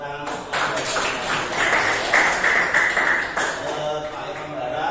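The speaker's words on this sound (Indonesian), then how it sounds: "Terima kasih, tepuk tangan." School students clap their hands together in a steady, dense burst of applause that lasts several seconds, with voices and cheering mixed in throughout.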